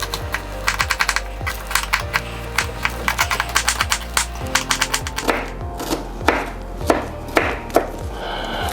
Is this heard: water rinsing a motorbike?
no